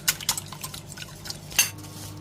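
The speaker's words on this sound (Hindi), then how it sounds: "आप अंडों को मिक्स करें," Eggs being mixed for chicken cordon bleu, with quick metallic clinks of a utensil against a bowl in an irregular rhythm, close and fairly clear, with no voices.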